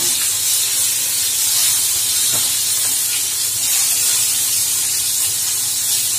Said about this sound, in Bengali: এই দেখো ভাজছি